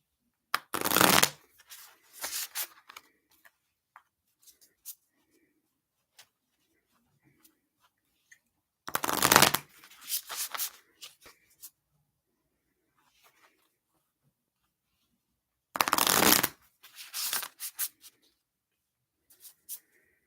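Three bursts of cards being shuffled, each a quick riffling flurry lasting about a second, separated by long quiet gaps with faint handling clicks.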